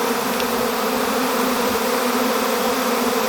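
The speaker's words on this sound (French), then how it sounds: "c'est des abeilles hybrides, vous voyez, il y a des jaunes" A large swarm of hybrid honeybees crowds into a new home at the château de Bouzot, filling the air with a dense, loud, unbroken buzzing drone close by.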